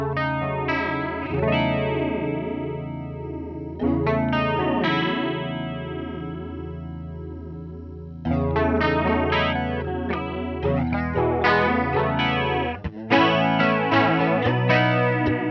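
Electric guitar run through a flanger pedal with its rate control turned up, the sweeping jet-like whoosh cycling steadily over sustained chords, with a few fresh strums and no talking.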